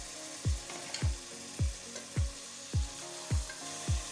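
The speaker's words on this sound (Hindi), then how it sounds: "अब हम साथ ही पाए डालकर इनको भी हल्का सा फ्राई करेंगे।" Goat trotters fry with onions in a hot pan, giving a steady sizzle broken by about seven regular stirring scrapes, close and fairly quiet.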